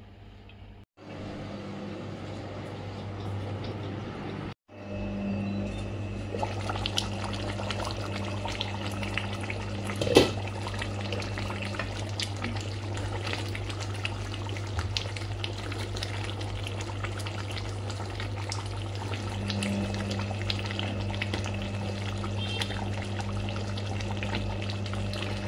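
Spiced curry cooks in a covered pan with salt and turmeric added, producing a low steady bubbling and sizzling hiss under a constant background hum, with a faint clink or two and no voices.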